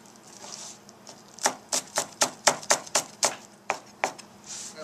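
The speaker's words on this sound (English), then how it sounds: "Now I can cut the cilantro small pieces" A kitchen knife chops fresh cilantro and chives on a cutting board in a steady run of about a dozen crisp, close taps, starting after a quiet moment and continuing in an even rhythm with no talking.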